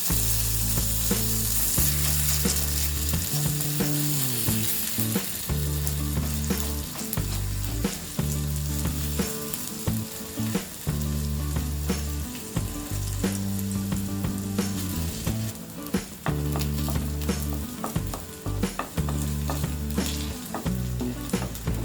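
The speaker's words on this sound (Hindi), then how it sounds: "हमें एक लैडल फुल मिक्सचर या बैटर लेंगे और ये पैन में डालेंगे" Potato cheela batter sizzling in a hot pan, a continuous crackling fry that runs steadily alongside a loud, rhythmically pulsing musical bed throughout.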